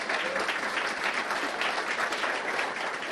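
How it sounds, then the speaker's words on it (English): A room full of people at a game developers' awards ceremony applauds steadily, a dense, even wash of clapping that holds at full strength for a few seconds with no voices rising above it. "Give yourselves a round of applause."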